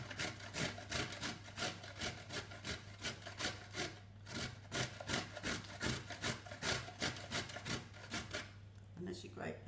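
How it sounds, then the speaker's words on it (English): Sweet potato and carrots rubbed against a grater in steady, rhythmic rasping strokes, close and fairly loud, with no one talking. "grate the sweet potato. And we're going to grate the carrots as well."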